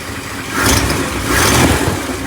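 A 1959 Lincoln engine with exhaust leaks runs steadily at a low rumble, swelling slightly twice as if lightly revved, close by with no talking.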